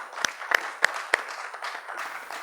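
Applause for a poet at a Hindi poetry gathering, a Kavi Sammelan: four sharp, separate hand claps ring out in quick succession, then a faint, scattered patter of light clapping carries on at a moderate distance.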